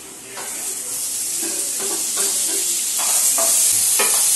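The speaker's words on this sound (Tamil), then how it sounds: "வெங்காயம் வந்து நல்லா வந்து வதங்கிடுச்சு" Steady sizzling and crackling of onions frying in a pan, with occasional stirring scrapes, close and continuous with no talking.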